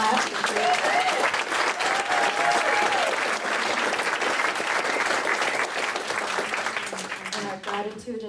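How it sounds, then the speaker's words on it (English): A church congregation applauds, a steady, full round of clapping that lasts several seconds before tapering, with voices rising briefly near the end. "David, would you stand so we can clap for David"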